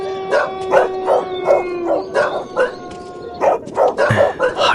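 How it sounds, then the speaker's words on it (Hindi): Several dogs on a village road barking and howling in repeated bursts, some drawn-out howls and yips overlapping, fairly close and loud. "अरे ये सब आज अचानक काहे भौंक रहा है?"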